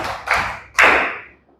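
Children in a third-grade classroom clap together in a counting rhythm game, producing two sharp, loud group claps about half a second apart, each ringing out briefly in the room.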